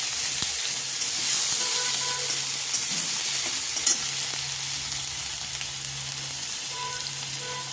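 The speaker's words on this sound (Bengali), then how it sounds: "তারপর তেলেতে পেঁয়াজ বাটা দিয়ে দেবো। পেঁয়াজ বাটাটা একটু নাড়াচাড়া করবো।" Onion paste frying in hot oil with a bay leaf, a constant close sizzle and hiss under repeated scraping stirs of a spoon against the pan, with no voices.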